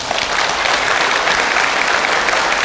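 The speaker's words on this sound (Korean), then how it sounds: "들릴지 모르겠지만 한번 박수 쳐드릴까요?" A church congregation claps together, dense and sustained, filling the room at an even level from start to finish with no voices on top.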